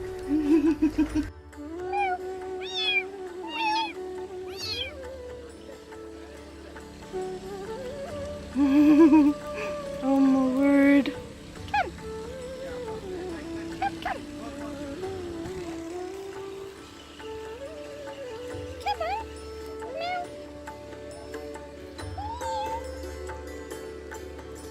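A cat meows repeatedly on a houseboat in the Kerala backwaters, with drawn-out, wavering cries close by, spaced across the clip; a person briefly exclaims in between.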